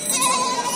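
A large Haryana-breed goat at a livestock market in Natore gives a single short, close, nasal bleat.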